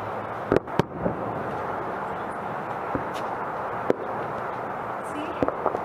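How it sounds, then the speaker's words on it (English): Fireworks burst outdoors, several sharp cracks and pops spaced irregularly over a steady background rumble, moderately distant. "I love fireworks."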